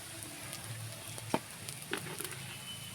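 Spices with Kashmiri chili powder frying in a pan for a cabbage bharta, a faint, soft sizzle with a few light scrapes and taps of a stirring spoon.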